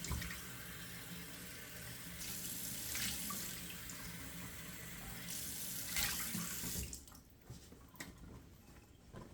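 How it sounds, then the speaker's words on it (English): Cold water runs steadily from a sink tap into the basin during a wet shave, a continuous rushing splash that stops near the end, leaving quieter drips and faint handling. "let me run a little cold water here"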